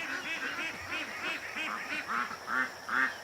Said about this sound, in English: there's some ducks coming back. All the young ones.